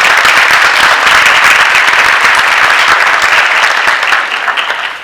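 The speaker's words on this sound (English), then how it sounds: "One last round of applause for all of our NAHS students." Audience applause for high school students at a Quill and Scroll awards ceremony: dense, sustained clapping from a crowd, loud and steady before tapering off near the end.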